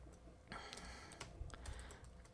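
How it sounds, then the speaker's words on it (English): Rapid keystrokes on a computer keyboard, a quick uneven patter of close, crisp clicks lasting a couple of seconds, with no voices. "I'm just going to start typing my story"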